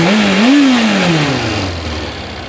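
A 2000 Kawasaki ZR-7 motorcycle engine revs high close by, its pitch climbing and then falling away steadily as the revs drop over a couple of seconds, loud and with no talk.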